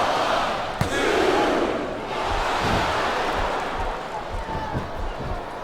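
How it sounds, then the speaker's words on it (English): A capacity wrestling arena crowd roars and cheers in WWE SmackDown vs Raw 2007, a dense sustained swell with thumps and impacts from the ring, while commentators talk over it. "This capacity crowd is solidly behind their superstar."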